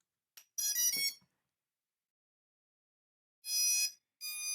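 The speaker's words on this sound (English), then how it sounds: "It took a moment for the ESC to get to the second beep" Startup beeps from a drone ESC on a 7-inch long-range FPV quadcopter: a short rising tone sequence, a long silent pause, then two more clear electronic beeps, close and alone.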